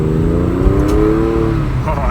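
A Porsche 911 fitted with a Fister D exhaust revs with a deep, loud engine drone whose pitch rises and falls, heard close up from inside or beside the car with a steady low rumble.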